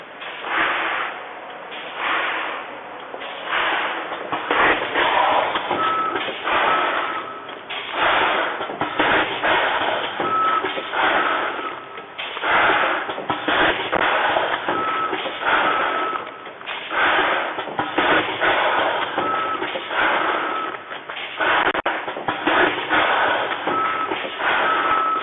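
AUTOMPACK multifunction packaging machine for coffee granules running steadily, a dense continuous mechanical clatter with rapid repeating clicks and knocks that stays loud and even throughout, with no voices.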